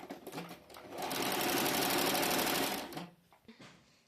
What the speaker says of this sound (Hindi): ये मैं यहाँ पे सिलाई लगाऊंगी ऐसे ऐसे इस तरह से